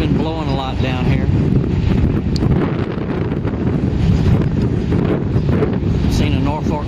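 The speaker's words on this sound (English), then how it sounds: "Wind's been blowing a lot down here." Strong wind buffets the microphone beside a railway line near Rosenberg, Texas, a loud, continuous low roar with gusty swells throughout, while someone talks over it.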